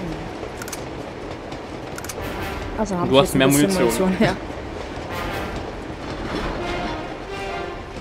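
A moving train in Uncharted 2 rumbles steadily underneath, with rattling clatter and a few sharp cracks like gunfire, while someone talks in German over it.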